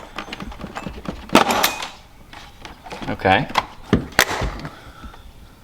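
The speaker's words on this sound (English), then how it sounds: "That noise you heard was this little metal clip here" Small metal clip popping free from an Audi R8 interior panel while seat belts are being installed, a few sharp clicks and snaps with plastic rattling at close range and a brief spoken word.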